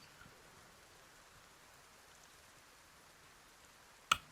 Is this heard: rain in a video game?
yes